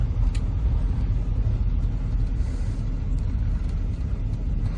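A 1957 Chevy driving in overdrive after being pulled out of storage, a steady low engine rumble and road drone that stays even and fairly loud from start to end.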